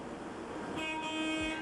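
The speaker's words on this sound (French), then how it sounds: "Le cariste doit toujours ralentir et klaxonner" A forklift horn gives a steady, tonal honk that begins partway through and holds to the end over a constant low background hum.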